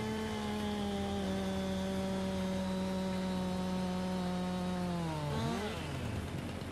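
A chainsaw in Farming Simulator 19 drones at a steady high pitch while cutting tree stumps, then the engine note drops and sputters down near the end, loud and alone without talk.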